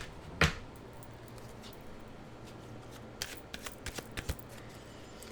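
Animal oracle cards are shuffled and one is drawn in a quiet room: a sharp riffle burst near the start, then a run of soft, close card flicks and taps toward the end, with no talking.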